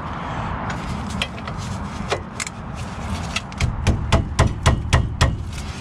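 A ratchet with a 21 mm socket works on brake caliper bolts. It gives a series of sharp metallic clicks that grow faster and louder toward the end, over a steady background hiss. There is no speech.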